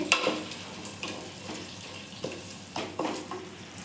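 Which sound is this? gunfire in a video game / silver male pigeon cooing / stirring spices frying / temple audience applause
stirring spices frying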